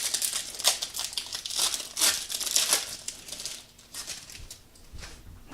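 A Topps Stadium Club trading card pack wrapper being torn open, close-up bursts of crinkling and crackling foil in several uneven waves, fading into quieter rustles at the end, with no voice.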